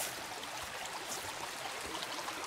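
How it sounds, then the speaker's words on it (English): A small creek flows softly in the distance, a faint, continuous trickle and babble with no voices over it. "And go right over here, there's the creek."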